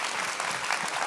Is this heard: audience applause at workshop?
yes